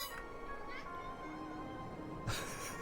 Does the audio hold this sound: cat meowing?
yes